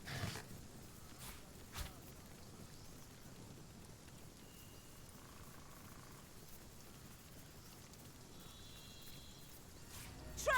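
Sheep in the video game Divinity: Original Sin bleat faintly in a few short, thin calls over a quiet, hissing ambient background.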